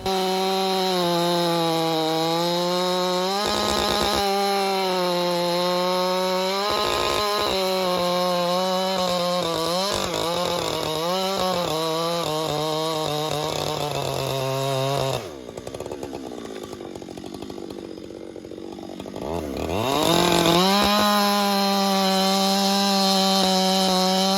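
A Husqvarna 592XP chainsaw bucks logs outdoors, its engine loud and close, rising and falling in pitch under load as the chain cuts. It drops to a lower idle for a few seconds before revving back up, with no voices.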